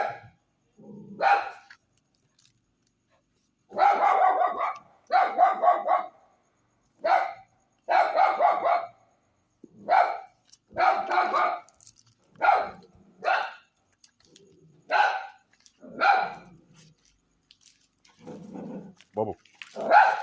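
A pet dog barks in a series of short, sharp bursts, some close together and some spaced apart, mixed with a person talking to it at home.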